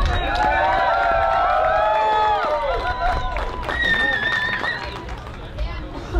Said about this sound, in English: Let's hear it, folks. Let's cheer these folks on here.